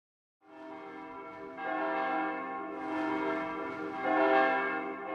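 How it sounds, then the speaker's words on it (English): Church bells ring out across New York City with rich, overlapping tones, swelling and layering over several seconds, somewhat distant and reverberant. "to the sound of church bells ringing throughout New York City"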